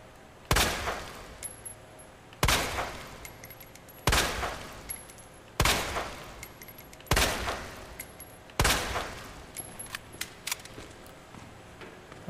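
Six loud gunshots from Resident Evil 2 fire one at a time, each a sharp crack with a short ringing tail, spaced about one and a half seconds apart over a faint game ambience.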